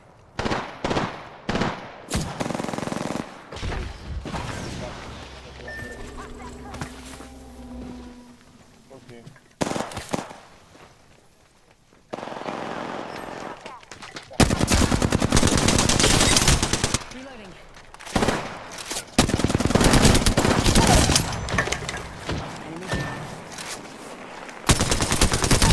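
Bursts of automatic gunfire and single shots crack through an Apex Legends match, loud and close in uneven volleys with short pauses between them.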